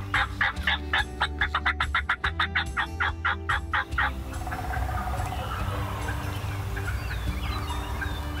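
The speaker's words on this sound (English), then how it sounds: "We had some birds gobbling just back behind us" Wild turkeys gobble in a rapid rattling burst, the calls loud and clear before giving way to faint woodland background noise.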